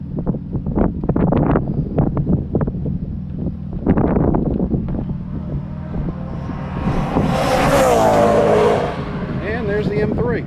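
A BMW M3 race car driving past on a track during an afternoon track session, its engine note rising and swelling as it nears, then passing with a loud roar and wind rush, while someone talks nearby.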